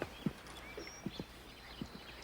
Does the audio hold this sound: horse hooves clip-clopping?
yes